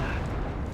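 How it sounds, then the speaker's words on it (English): Short-range mortar fire in the military strategy game Wargame Red Dragon, a thick, steady roar of blasts and rumbling that fills the brief moment at even loudness, with no voices present. "Short range mortar fire."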